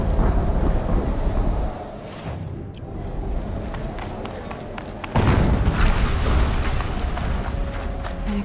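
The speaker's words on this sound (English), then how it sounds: "An explosion." A loud, broad explosive boom in the video game Horizon Forbidden West on PS4, a heavy rumble that dips for a moment and then bursts back fuller, with no talk over it.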